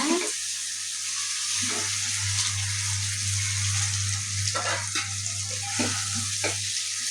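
Chicken stirred and fried in a pan for a homemade chicken fry, a steady close sizzle with scraping stir strokes breaking through now and then, over a low constant hum.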